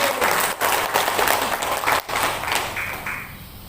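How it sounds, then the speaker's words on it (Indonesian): A crowd at an early-childhood teachers' association installation ceremony breaks into applause, loud, close hand claps with a few sharper slaps, swelling briefly then tapering off toward the end. "Mohon tepuk tangannya untuk semuanya"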